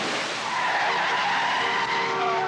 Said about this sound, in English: The car thing, where it slides into that perfect parking spot in front of the pizza place